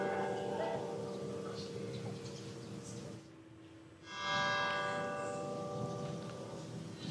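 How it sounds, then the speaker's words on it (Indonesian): Church bells ring in mourning at Manila Cathedral with resonant sustained tones and lingering overtones, a bright new strike partway through, heard at moderate loudness. "lonceng gereja juga berdentang di Gereja Katedral Manila untuk memberikan penghormatan terakhir"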